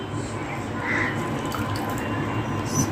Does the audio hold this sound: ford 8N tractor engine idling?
no